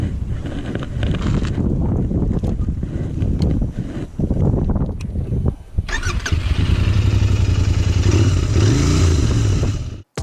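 A Royal Enfield Interceptor 650 motorcycle riding on the road, its engine droning loud and steady throughout with heavy wind buffeting the microphone, a brief dip midway before the roar swells again.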